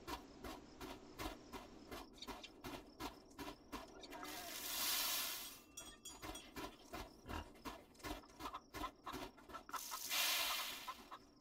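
Chickens cluck in the farm video game Farm Together, a rapid, busy stream of short clucks running throughout with two brief hissing, water-like swells and no talking.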